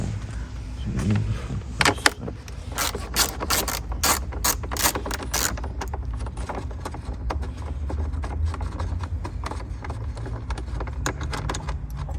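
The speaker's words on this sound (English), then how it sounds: "So in order to remove it we need 10mm socket and ratchet with extension." A 10mm socket ratchet with extension loosening the battery hold-down bracket on a Ford Escape (Kuga), a fast run of close clicking ratchet pawl strokes followed by softer intermittent clicks over a low background hum.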